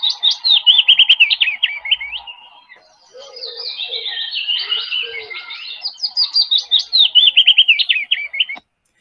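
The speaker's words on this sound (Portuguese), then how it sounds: "O que a gente fala que ele é um pássaro cantor" Songbird song played as a recording in a lecture: rapid bright trilled phrases repeat in clear bursts, with a softer warbling passage between them and no talking over it.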